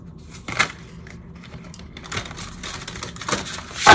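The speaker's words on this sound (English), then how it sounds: "So I just want to show you how these shuffle." Large-format tarot cards riffle and snap together in several quick side-shuffled bursts, with soft shuffling rustles between them, close up and quiet.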